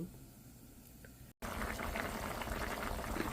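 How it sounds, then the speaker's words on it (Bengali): Cauliflower bubbles in a covered pot, a dense boiling roar that briefly drops out and then returns louder and steady. "এখন কভার করে ফুলকপিটা সিদ্ধ করব।"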